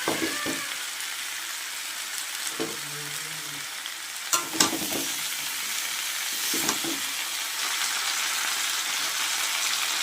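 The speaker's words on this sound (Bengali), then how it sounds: "এবার এর মধ্যে আমি আদা, জিরে আর লঙ্কা বাটা দিয়ে দেবো।" Vegetables fry in a pan with ginger, cumin and chili paste added, a loud continuous sizzle close by, broken by a few clacks and scrapes of a spoon stirring, with no talk.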